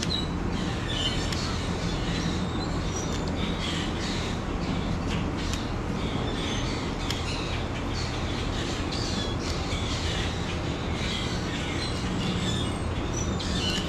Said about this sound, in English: You gotta love all the background noise with all the birds, huh?